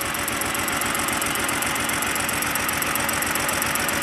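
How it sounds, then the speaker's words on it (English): BMW 328i xDrive engine idling roughly while misfiring on three cylinders from open injector circuits, a steady loud chugging with an uneven pulsing rhythm and a faint high hiss. "a lot of shaking, misfiring on 3 cylinders, and problem with 3 open injectors"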